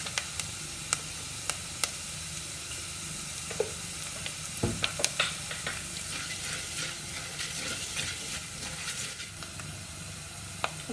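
Ginger fries in oil with chili and turmeric powder, sizzling steadily up close with scattered sharp pops and spatters and a few stirring knocks, with no talk.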